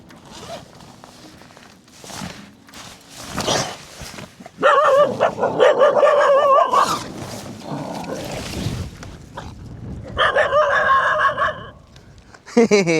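About ten dogs bark in two loud, yelping bursts separated by quieter rustling stretches, near a ghat road at Velneshwar.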